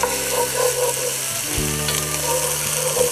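Chopped onions, bell pepper and jalapeños, seeds included, fry in cooking oil with a steady, close sizzle that fills the whole stretch, broken only by a few faint scraping and clicking sounds.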